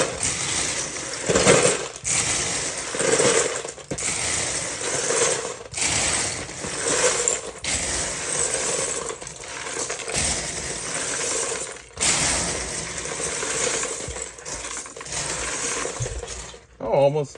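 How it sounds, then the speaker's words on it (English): Bursts of plastic Lego bricks being poured and dumped into containers while sorting a large box of minifigures, a steady run of clattering rattles with short pauses between each dump. "people like the sound of Lego being dumped into containers"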